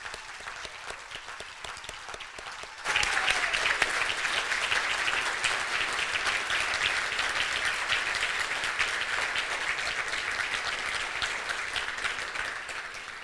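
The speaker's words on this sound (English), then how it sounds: "Let's give them a round of applause." Audience applauding Rotary scholarship graduates, a full sustained wash of many clapping hands that starts abruptly after quieter scattered claps and continues evenly at moderate level to the end.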